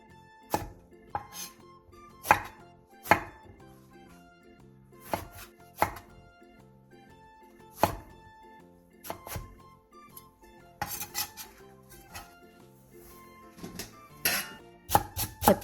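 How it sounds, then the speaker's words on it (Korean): A knife cuts through eggplant, halved and then sliced lengthwise into long pieces on a cutting board, giving sharp, distinct thuds at an irregular pace, close and clear in a quiet kitchen. "가지 2개를 반으로 통썰기 한 뒤 먹기 좋은 크기로 길게 잘라주세요."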